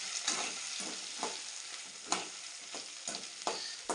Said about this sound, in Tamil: இது வந்து சின்ன சின்ன உள்ளி போட்டிருக்கேன் பாருங்கள்